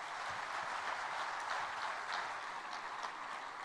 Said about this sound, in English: I think you can give them a bigger round of applause